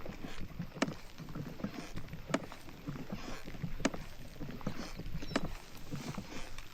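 Kayak drifting on the Missouri River on a rainy day, with steady soft water lapping and a few faint knocks against the hull, fairly quiet and continuous, no talking.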